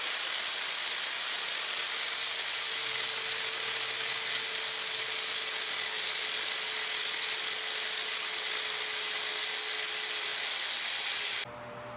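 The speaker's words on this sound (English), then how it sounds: "We're making some good progress with the angle grinder on getting that point shaped" Angle grinder shaping the point of a steel knife blade, a steady, loud, continuous high hiss of grinding held evenly for about eleven seconds before cutting off abruptly, with no talk.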